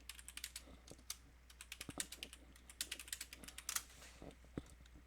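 Quick, light keystrokes patter on a computer keyboard in uneven bursts, close and fairly quiet, with short pauses between runs of taps and no voices.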